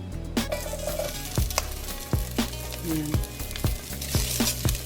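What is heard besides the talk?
ginger sizzling as it is sautéed in a pan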